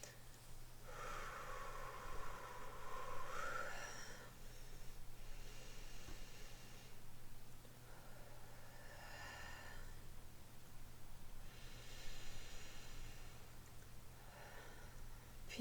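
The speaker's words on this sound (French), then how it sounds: "en effectuant 3 grandes respirations" Three slow, deep breaths drawn in and let out during a relaxation exercise, soft and close, each long airy inhale and exhale separated by quiet pauses over a low steady hum.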